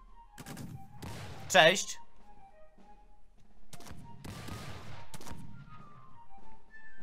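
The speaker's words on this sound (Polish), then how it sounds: "Tu gdzieś słyszę te strzały." Video game gunfire crackles in several bursts, a sharp loud volley early then fainter scattered shots, with a voice talking briefly over it.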